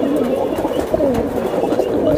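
Army pigeons cooing close by, a soft, rolling throaty murmur repeating steadily across the moment.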